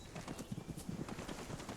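Faint, rapid hoofbeats of a horse galloping in a video game drum in an uneven rhythm throughout, distant and light.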